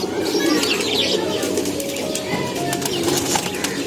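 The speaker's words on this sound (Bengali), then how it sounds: "এই যে একটা কবুতর দেখতেছেন" Young pigeons coo softly and continuously nearby, with light chirps and brief wing flutters over a steady background.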